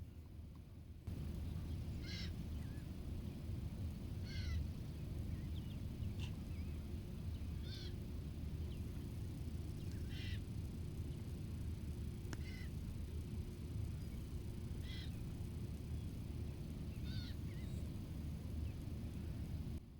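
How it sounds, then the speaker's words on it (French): Birds call outdoors at regular intervals, short bright notes repeating every couple of seconds over a low, steady background hum, fairly distant. "les oiseaux."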